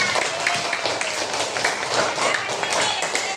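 Elementary school pupils in a classroom clap together in a continuous, dense burst of rapid, overlapping claps, close and even in loudness from start to finish.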